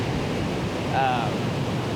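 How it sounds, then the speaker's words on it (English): Ocean waves break at high tide on Playa Carmen beach in Costa Rica, a loud, steady rush of white water with no pause. "it's high tide and it's mostly a lot of white water"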